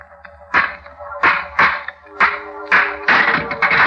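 A stone strikes an old rusty lock repeatedly in a radio drama: six or so sharp metallic impacts in an uneven rhythm, close and fairly loud, each with a short ringing tail over a low musical drone.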